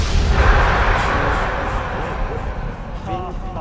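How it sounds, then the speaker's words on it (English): A loud rumbling explosion in the Skyrim mod Enderal with a broad roar that slowly decays, followed by a brief voice near the end. "Explosion."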